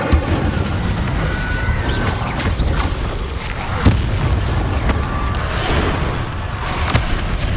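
Incendio fire spells burst in Hogwarts Legacy, a rumbling, booming roar with dense low crackle, punctuated by several sharper explosive pops scattered across the span.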